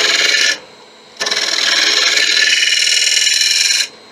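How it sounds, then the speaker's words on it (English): A negative rake scraper cutting a wood ring on a lathe gives a loud, steady rasping scrape in two passes with a short pause between them. "I have the negative brake scraper in my hand"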